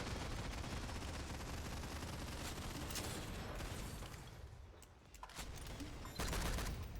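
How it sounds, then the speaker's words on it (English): Weapon fire in the shooter game SYNTHETIK, aimed at a refractor enemy: rapid, continuous automatic bursts crackle steadily, then dip briefly before resuming loudly near the end. "Gonna give myself an RSI trying to shoot at this refractor."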